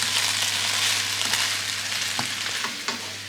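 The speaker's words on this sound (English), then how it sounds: "just fry them off slightly." Mushrooms fry for a vegetable curry, a dense, steady sizzle close in the pan with a few light clicks and scrapes and a low background hum, no voices.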